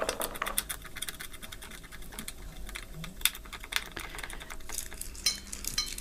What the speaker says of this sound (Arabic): هنا أبين لكم عدة طرق بتكسير الجوز، أما بالسكين أو بهذا الكيس أخليهم وأضربه بالمدقة الخشبية